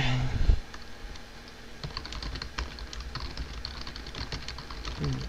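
Computer keyboard typing runs steadily through the clip as a stream of quick, close key clicks with uneven rhythm, following a short burst of voice at the very start.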